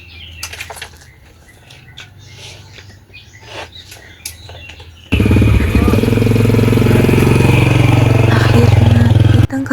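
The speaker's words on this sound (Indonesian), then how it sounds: "jeung Ajunet naik motor bareng" A motorcycle with two riders aboard starts up partway through and rolls along close by, a loud steady engine drone with faint chirps and clatter in the quieter stretch before it.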